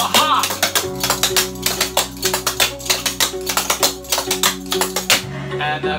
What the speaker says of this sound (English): Shuffle step with the hop.